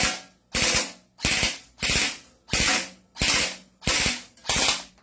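A toy gun fires eight loud, evenly spaced shots in rapid succession, each a sharp crack with a short rattling tail, close up and with no voices.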